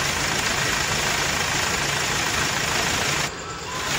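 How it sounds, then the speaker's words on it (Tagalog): A Hyundai Starex engine idles after a top overhaul, giving a steady, even mechanical hum close by with no speech. It dips briefly near the end. "Okay na tong andar ng makina nya."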